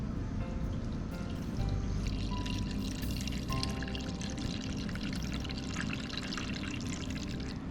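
Cold water poured steadily into a cup for cooking prep, a continuous close splashing fill that runs the whole stretch with bright trickling texture.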